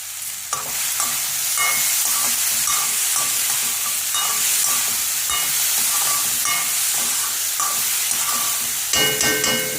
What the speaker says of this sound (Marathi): जरा बटाटा भाजायचा